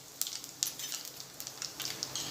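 Cumin and asafoetida sizzle in hot oil for a chana curry tempering, a faint crackling hiss with scattered sharp pops, close by with no voices.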